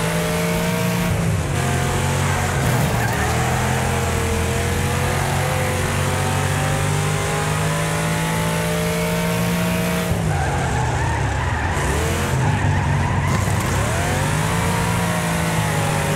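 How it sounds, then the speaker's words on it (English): Cars drift around corners in the racing game Wreckfest. Tires squeal loudly and continuously under high-revving engines whose pitch sweeps up and down through the slides. No one speaks. "Tokyo drifting."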